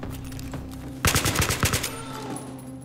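A short automatic gunfire burst from the video game Battlefield 3: about six rapid, loud shots close together, breaking out after a low steady background hum and then fading.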